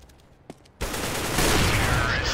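Sustained burst of gunfire from the CS:GO video game on the Cache map, a short tap then a loud continuous volley that starts abruptly and holds steady to the end.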